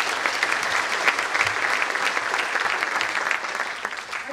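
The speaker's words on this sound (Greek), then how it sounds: "θέλω επίσης ένα θερμό χειροκρότημα" Warm audience applause at a school competition award ceremony, many hands clapping in a sustained, even roar, moderately loud and fading slightly toward the end.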